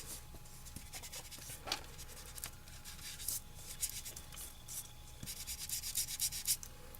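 Distress ink being rubbed onto paper for a handmade artist trading card, a soft dry scrubbing that comes in repeated short strokes, light and close, with brief brighter swipes and no talking.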